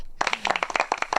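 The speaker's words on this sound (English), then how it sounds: "See, that's the clapping I'm used to." A small live audience in a podcast studio clapping, a brief patter of separate, close handclaps in an uneven rhythm that starts abruptly after a moment of quiet.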